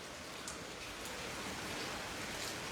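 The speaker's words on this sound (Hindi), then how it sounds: "ज़ोरदार बारिश सुबह से ही हो रही है और साथ ही साथ बारिश ही नहीं बल्कि ओले भी पड़ रहे हैं" Heavy rain mixed with hail falls in Jammu as a steady, dense, even hiss with faint scattered patter, unbroken and without voices.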